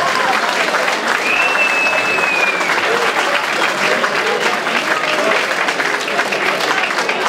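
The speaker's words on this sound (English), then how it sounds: "can I ask you to give both boxers a big round of applause" Loud, dense applause and crowd noise fill a boxing venue after an amateur bout, sustained throughout at close range, with a brief whistle cutting through and voices mixed into the din.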